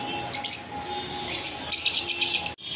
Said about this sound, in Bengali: double red factor pineapple কোনুর